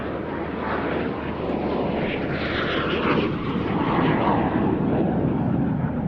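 A military jet performs a display manoeuvre at the RAF Cosford Air Show, its engine roar broad and loud, steady throughout and swelling slightly as it approaches along the display line.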